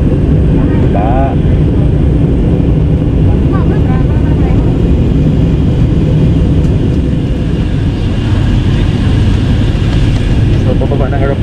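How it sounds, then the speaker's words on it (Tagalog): Airplane cabin noise during descent toward Korea, a loud, steady broadband roar of engines and airflow that continues throughout, with a person speaking faintly beneath it. "So pababa ng aeroplano ito mga tropa kids."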